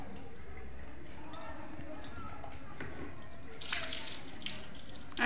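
Tap water runs steadily into a sink while shoes are washed, with a louder splashing burst near the end and people talking throughout.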